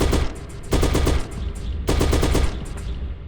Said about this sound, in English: Alright, so this is our machine gun.